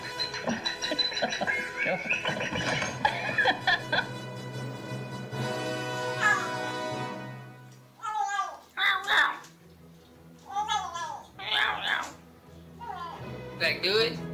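A cat meows repeatedly up close in short rising-and-falling calls, after a stretch of sung children's tune with music; the meows come in a rapid series alone.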